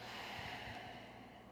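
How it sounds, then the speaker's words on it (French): A person breathes slowly during a seated guided body-awareness exercise, one long breathy exhale with a faint snort-like nasal onset, close and quiet. "Vous respirez, votre respiration."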